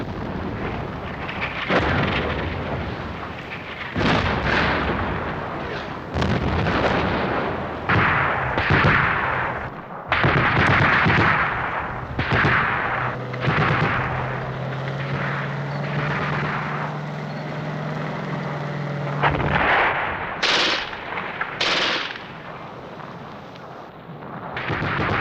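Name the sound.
heavy artillery fire in wartime documentary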